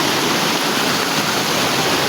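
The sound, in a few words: Bono Manso waterfalls in Ghana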